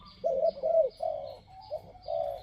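A spotted dove coos in a repeated series of soft, hollow notes, moderately close, with faint outdoor background and no talking.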